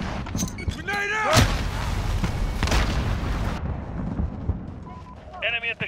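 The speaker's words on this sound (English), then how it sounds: "The grenade out!" Grenade blasts in Call of Duty gameplay, a sharp boom followed by a rumbling tail and another thump, mixed under game effects and clipped player callouts.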